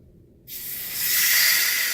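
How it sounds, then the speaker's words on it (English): A steady rushing hiss of water flowing under pressure into a whole-house water filter begins abruptly after a brief quiet moment, then swells slightly and holds, close and fairly loud. "You can hear the water going into it."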